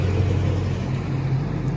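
A second car rolls past on a quiet, empty town road in New South Wales, Australia, under lockdown: a steady low engine and tyre rumble heard at close to moderate distance, continuous and unbroken, with no talking.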